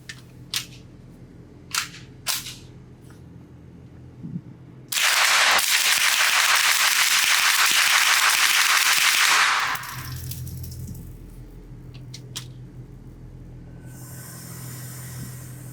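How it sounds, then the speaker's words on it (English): A suppressed Ruger 10/22 Takedown .22 rifle fires a few separate shots, then a roughly five-second rapid-fire burst that empties a 25-round magazine and blurs into one loud, dense stretch of fast reports, followed by quieter ambient noise. "So I want to do a 25 round mag dump with this thing, obviously with the suppressed barrel."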